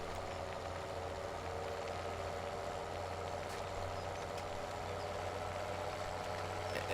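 A small tractor in a farming video game idles with a steady low engine hum and rattle, constant and moderately quiet throughout without revving.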